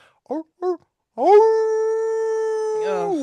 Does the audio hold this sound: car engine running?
no